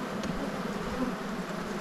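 Honey bees drone steadily around a white beehive at close range, a dense continuous buzz with no talking.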